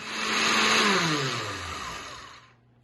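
A blender whirs loudly as it purees lemon juice into a chutney, its motor pitch sliding down before cutting off abruptly near the end.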